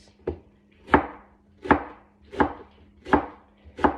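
A knife chops through onion on a cutting board for beef steak, six sharp, evenly spaced thuds about every 0.7 seconds, close and clear with no talking.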